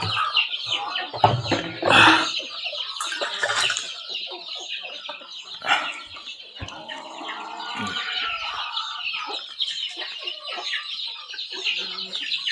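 A crowd of many newly hatched chicks peeps in a dense, continuous high chatter, with some louder close bursts early on, then a busy, overlapping chorus.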